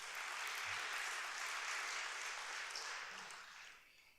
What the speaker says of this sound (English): They're not here, but they deserve an applause.